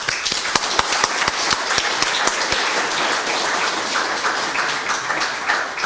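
An audience claps in welcome for a speaker at a medical lecture, dense applause with sharp individual claps at the start, sustained evenly and fairly loud throughout.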